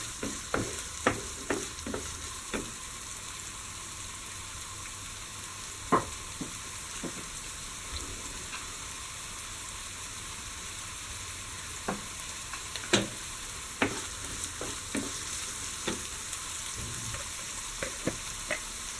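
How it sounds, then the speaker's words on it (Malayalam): Chopped onions sautéing in a pan for beef cutlets, a continuous sizzle broken by scattered sharp scrapes and taps of a spoon against the pan, close and with no talk. "ഇനി ഇതൊന്ന് നന്നായിട്ട് വഴറ്റിയെടുക്കുക."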